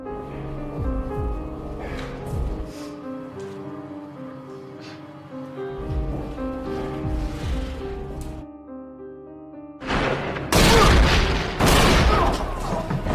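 Gunfire from a scene in the action film Death Sentence, where a bullet is shot through a wall: tense tonal music plays for a while, then loud, dense bursts of shots erupt near the end.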